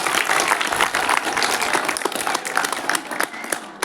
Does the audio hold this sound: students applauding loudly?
yes